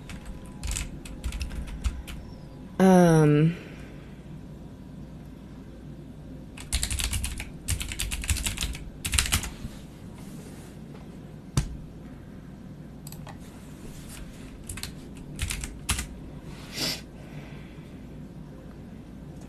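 Steady clatter of keys on a computer keyboard, coming in irregular bursts of typing with pauses between them, close and moderately loud, with a brief voice and a short rising chirp of another sound near the start.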